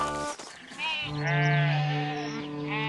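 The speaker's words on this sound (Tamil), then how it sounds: "இந்த பக்கம் போற யாராவது இந்த ஆட்டு மந்தை யாரோடதுன்னு கேட்டா ரெக்கை இளவரசரோடன்னு சொல்லு" A cartoon flock of sheep bleats in a few drawn-out, wavering calls, loud and close, overlapping one another.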